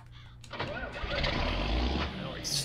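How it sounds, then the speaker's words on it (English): An old tractor engine in Farming Simulator 19 cranks briefly and then catches, settling into a loud, low, rumbling idle that swells and holds, with a voice speaking quietly over it. "Now we start up an old tractor here."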